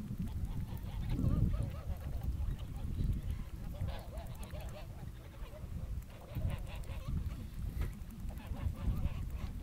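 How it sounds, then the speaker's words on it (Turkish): Kars geese honking and calling in a flock, a steady stream of overlapping nasal honks close by, with a low rumbling background throughout. "Kars kazı uykuya geçiyor."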